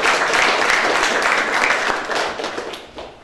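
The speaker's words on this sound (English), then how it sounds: "I guess you can give her a round of applause" Audience giving a round of applause for para-Olympic gold medalist swimmer Mathavi Latha during an inspirational talk, a dense burst of many hands clapping that holds steady and then begins to thin and fade.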